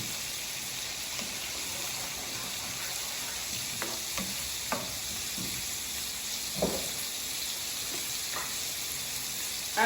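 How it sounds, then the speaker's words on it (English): Pineapple pieces simmer in sweet and sour sauce, giving a steady, close bubbling sizzle throughout, broken by a few soft clicks and stirs. "I'm gonna let that cook so the pineapples can cook"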